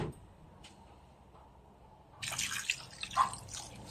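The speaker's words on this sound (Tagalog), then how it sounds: "Butangan ta na po san tubig." Water poured into a pot of chicken tinola soup, seasoned with salt and pepper, heard as a close splashing, gurgling pour that starts after a quiet stretch and swells with sharp bursts.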